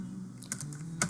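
Computer keyboard typing, a few quick keystrokes clustered into two short bursts, close and fairly quiet over a low steady hum, with no voice.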